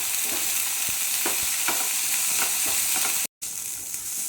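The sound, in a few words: stirring onions frying until golden brown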